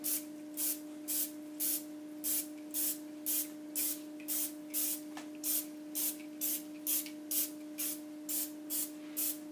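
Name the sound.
spraying canola oil onto a mold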